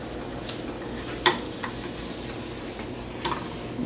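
Tortilla shells frying in hot oil for fish tacos, a soft steady sizzle with a few sharp pops and crackles standing out near and clear in a quiet kitchen.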